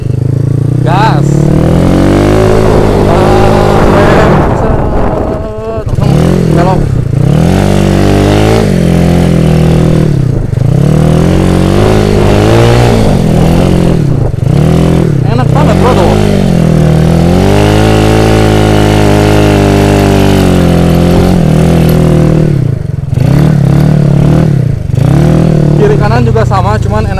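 A motorcycle engine revs repeatedly while drifting on a dirt track, loud close rising and falling throttle bursts in quick succession throughout.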